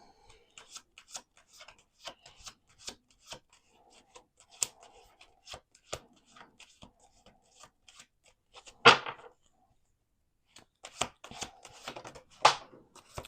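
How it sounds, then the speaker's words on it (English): A deck of playing cards being shuffled by hand, soft riffling and tapping clicks spread through the stretch with a louder riffle burst near the middle and another toward the end, close and fairly quiet, with no talking. "let's do 2 more shuffles."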